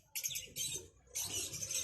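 Caged birds in a bird shop chirp in short, high, fluttering bursts, fairly faint and close together, with a quiet pause between calls.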